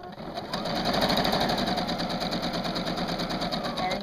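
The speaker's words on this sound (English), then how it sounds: "I will go around and stitch. You use a very narrow stitch." Sewing machine stitching fabric with a very narrow stitch, a steady close rapid mechanical whirring and ticking that runs unbroken after a brief start.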